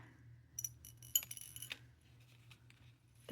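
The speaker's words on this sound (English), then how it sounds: "let me open this and get some on my dish to show you these little purple crackle rounds" Small purple crackle-glass rounds are tipped onto a dish, producing a quiet cluster of close, bright clinks and rattles that fade into silence.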